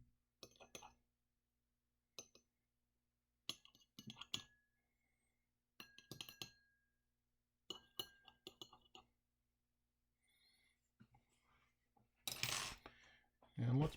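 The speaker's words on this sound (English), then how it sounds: "let's go ahead and stir those up a little bit." Glass and metal clink in short bursts as buffer solutions are stirred in lab glassware, several separate rounds of tapping and rattling with quiet gaps between, close and fairly soft.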